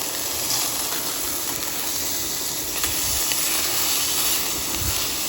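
Burgers seasoned with steak seasoning sizzle on a grill outdoors beside the Nueces River in Texas, a steady close hiss of frying with faint crackles and no talking.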